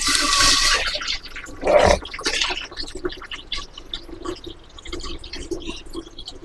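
Water is poured into a pot while cooking Pongal for the harvest festival, giving a loud splashing gush at the start, a second burst of splashing, then fainter dribbles and drips.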